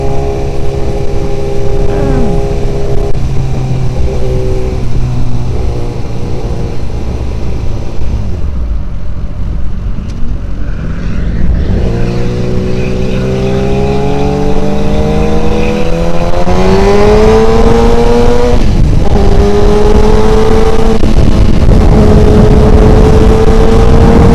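A tuned 2025 Suzuki GSX-R1000R engine revs loudly and steadily, pitch dipping and then climbing through higher revs, close and sustained throughout.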